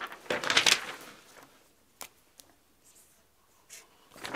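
A pen scratches on paper while music chord notes are jotted down, with a brief scrawling burst, then a few faint taps and strokes in a quiet room.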